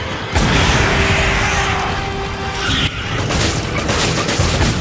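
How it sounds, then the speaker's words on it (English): Grenade blasts and combat noise in the video game Resident Evil 5, a loud dense barrage of booms and bursts of gunfire running continuously, with sharp hits near the start and around three seconds. "I'm gonna throw these grenades at him."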